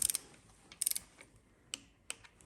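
A ratchet wrench clicks in short rapid runs and then single ticks while tightening cylinder head bolts on a Renault D4F 1.2 16v petrol engine, quiet and close with no talk.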